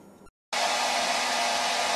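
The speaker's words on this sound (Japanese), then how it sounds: "ドライヤーで風を吹かせるとこのように円柱の後ろにも風が回り込んで流れていることがわかります。" A hair dryer blows a steady, loud rush of air at a cylinder. A short gap of silence comes first, then the airflow starts abruptly and continues unbroken and close.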